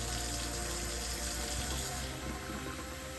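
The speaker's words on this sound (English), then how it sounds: "this is filling both the hot and the cold water lines coming to the kitchen sink" Water streams steadily from a kitchen sink faucet in a Keystone Cougar fifth-wheel trailer, a constant hissing splash at close range with no voices.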